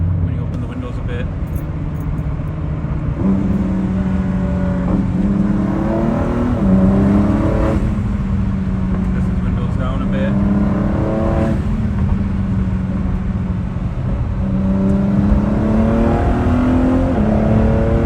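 A loud sports car engine revs repeatedly, heard from inside with the windows up, pitch sweeping up and dropping over a constant roar, with faint talk underneath.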